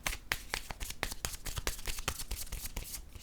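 A deck of cards is shuffled for a card reading, with quick rhythmic riffling and slapping of cards up close, steady and fairly loud for a few seconds, with no one talking.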